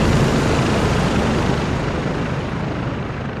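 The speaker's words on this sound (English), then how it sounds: "Got a heli incoming." Helicopter from Modern Warfare 2 approaching, a loud steady broadband rotor and engine roar that fills the whole stretch and eases very slightly toward the end, with no voices.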